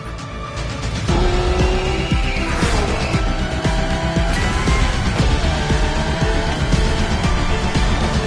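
A Genti Automobile Accolone drives in the racing video game Motorfest, its engine roaring steadily and close with tire squeal and skidding over about eight seconds, no voices.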